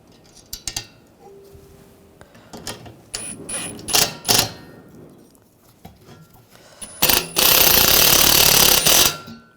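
A power driver sets screws into a mounting bracket on a new AC condenser for a 2004-2012 Chevrolet Colorado 3.7L. Metallic clanks and short whirring bursts come first, then a loud, sustained buzz of the driver near the end.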